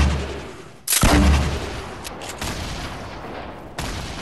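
Explosive grenade launcher blasts in Fortnite, a loud burst near the one-second mark followed by a rumbling tail and a second sharp hit later, booming over busy in-game battle noise.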